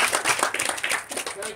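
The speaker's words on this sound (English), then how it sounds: "Give the Lord a hand clap of praise as you're being seated tonight." Church congregation at a tent revival clapping hands in praise, with scattered overlapping claps under a speaking voice.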